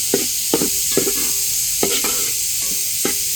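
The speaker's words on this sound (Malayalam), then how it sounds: "സവോള നന്നായിട്ട് ചുമന്ന് വരുന്നുണ്ട്." Onions sizzle and brown in a frying pan under a constant hiss, broken by a series of close, regular scraping stirring strokes about every half second.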